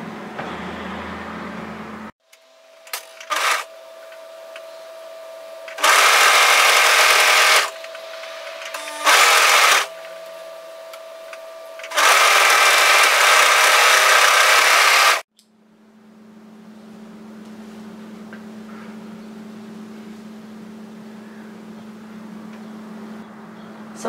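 An overlocker serges a sleeve seam on a knit sweater in short loud mechanical bursts of whirring stitching, three main runs separated by pauses, with a steady low hum continuing afterward.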